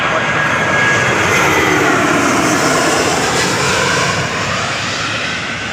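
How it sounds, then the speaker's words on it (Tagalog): A fixed-wing airplane passes overhead, its loud, steady engine roar filling the air and slowly fading near the end, with no talking heard over it. "May aeroplano naman."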